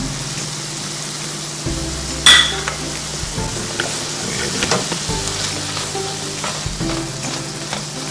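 Ground meat sizzles in a hot pan while chili powder, paprika and ground cumin are stirred in, with a steady frying hiss, scraping strokes and a sharp metallic clink of the utensil against the pan.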